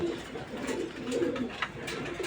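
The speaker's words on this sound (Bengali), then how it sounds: "হাউস পিজিয়ন দেখেন, সুন্দর কবুতর" House pigeons coo in a low, rolling murmur close by, several throaty calls overlapping against a faint background hum, with no voices.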